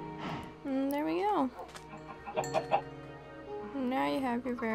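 Chickens cluck in a video game sheep pen and farm setting, with a person talking over the fowl sounds throughout.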